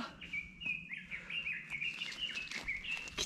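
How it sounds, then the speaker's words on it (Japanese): Birds chirp and trill steadily along a forested mountain trail on Mt. Konosan in Osaka, with several overlapping calls at moderate distance over quiet ambient background and no talking. "きちんとした登山道を鳥のさえずりを聞きながら歩ける幸せ、いいね。"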